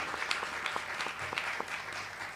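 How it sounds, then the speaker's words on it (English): An audience applauds at an evening birthday satsang with bhajan and kirtan, a sustained burst of clapping from many hands, close and lively, with no speech over it. "we would like to give a huge round of applause to Jagati for taking us through this garden"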